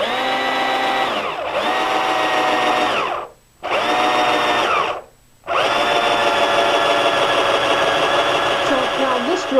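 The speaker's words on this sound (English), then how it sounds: "I'm going to demonstrate how the spade bit works" Corded power drill fitted with a spade bit whines loudly and steadily while boring, briefly stopping twice before running on again, with no voices over it.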